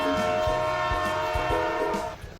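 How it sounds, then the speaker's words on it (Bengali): A train pulls into a Bangladeshi railway station, a steady loud rumble with a sustained horn-like tonal drone and periodic low thumps of wheels over rail joints, continuous and close for a couple of seconds. "ট্রেন চলে আসছে, আমরা দেখবো ট্রেনে।"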